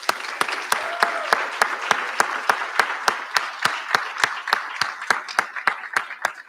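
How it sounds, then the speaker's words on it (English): Graduates at a recognition ceremony applaud their faculty: a single crisp, rhythmic clap repeats steadily and loudly close by over a softer bed of crowd clapping in a large hall. "I'm going to ask you to give your faculty a round of applause"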